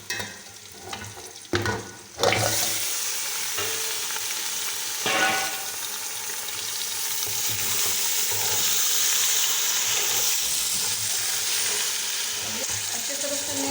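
Beef frying with onions and garlic in a karahi: a loud, continuous sizzle with scraping stirs, preceded by brief bursts of clatter and a short swell of running water near the start.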